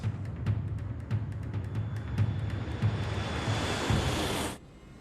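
Germanwings airliner jet engines spooling up at takeoff thrust on the runway, a steady broadband roar with a faint high whine and regular low thumps, ending abruptly.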